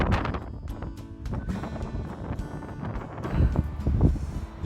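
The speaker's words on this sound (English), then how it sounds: "I better put the board away before it blows away because it's so windy" Strong wind in the Outer Hebrides buffets the microphone in steady rumbling gusts, swelling louder toward the end, with no voices.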